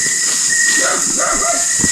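Faint, distant dog barks, a few short yelps over a steady high hiss and low background noise.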